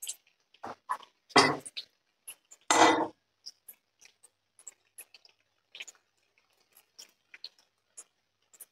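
Fried surmai fish pieces lifted from a pan onto a plate in a home kitchen, heard as a few loud scraping clatters of utensil and dish followed by scattered light ticks and taps, no talking.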